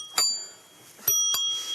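A bicycle bell rings three times on a bike ride at Cap Ferret, bright metallic dings with lingering tones, the second and third close together.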